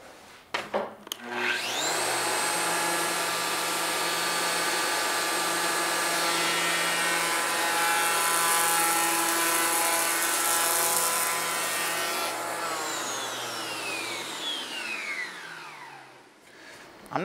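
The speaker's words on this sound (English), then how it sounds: "I can dial the planer down to the exact depth that I need it." A power planer trimming a door edge for hanging in an old jamb, starting up with a rising whine, cutting in a loud sustained roar for most of the stretch, then spinning down toward the end.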